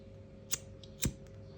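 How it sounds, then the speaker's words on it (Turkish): Scissors snip the end of a cord during handmade rose necklace making, two crisp close cuts about half a second apart against a faint quiet background. "Bakın bu şekilde ilmek yürütme yaptıktan sonra şöyle ucunu kesiyorum"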